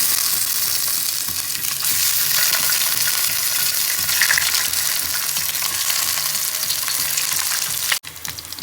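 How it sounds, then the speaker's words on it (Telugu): Boiled, cut eggs deep frying in oil in a pan give a loud, continuous crackling sizzle, close and steady, with a brief clatter just before the end. "ఎగ్స్ కొంచెం బ్రౌన్ వచ్చే వరకు డీప్ ఫ్రై చేసుకోవాలండి ఆయిల్లో"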